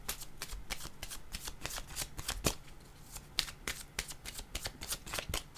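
Tarot cards are shuffled continuously up close, a steady run of soft riffling flicks and taps with no talking.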